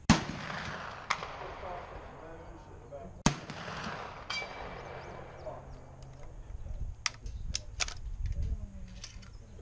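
A single-shot cartridge rifle fired at a match range, sharp close reports with long rolling echoes that fade out, followed by clicks and handling noises and a voice speaking in the background.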